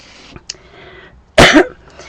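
A single loud, harsh cough bursts out close to the microphone after a quiet stretch, with a couple of faint clicks before it.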